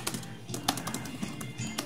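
Light, quick clicks of fingers typing on a Fusion5 T90B+ Pro laptop keyboard, a soft irregular patter of keystrokes heard close and fairly quiet, without speech.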